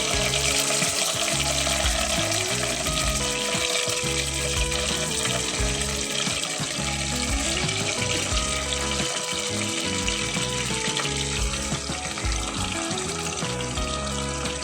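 Chicken pieces fry in oil with curry leaves for Kerala-style chicken kondattam, a loud, dense, continuous sizzle and crackle that stays close and steady throughout with no talk.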